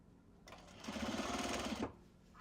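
A sewing machine stitches Japanese fabric for a small box bag, running in one steady burst of about a second and a half. The whirring is soft and close, with no talking.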